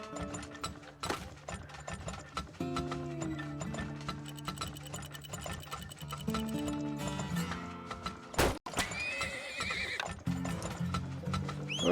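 In the horse-raising game Turmoil, horses neigh and whinny repeatedly while hooves clip-clop in a steady rhythm, with mechanical clanking game effects layered over the loud, close sounds.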